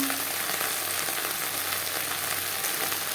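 Okra frying in a little oil in a pan gives a dense, continuous loud sizzle with faint stirring movement throughout, no voices present.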